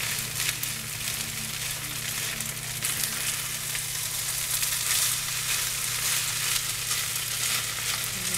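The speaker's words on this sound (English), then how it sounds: "Get it all stirred up until all the rice is brown." Thai fried rice with rotisserie chicken stir-fried in a hot pan, giving a steady, dense sizzle with faint scraping from stirring, continuous and close throughout, with a low hum underneath.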